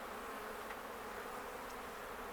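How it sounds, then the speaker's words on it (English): Honeybees buzz around an open hive during an inspection, with many drones present, a dense steady drone that fills the air close by without any talk. "Lots and lots of drones."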